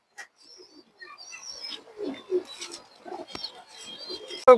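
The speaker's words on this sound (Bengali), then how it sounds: "বড় সাইজের একটা পুরনো চিলা কবুতর মাশাআল্লাহ, মাদি কবুতর, এটা চিলা মাদি কবুতর" Large old Chila hen pigeon making soft, irregular low coos and murmurs up close, with faint chirps and a sharp tap near the end in an otherwise quiet space.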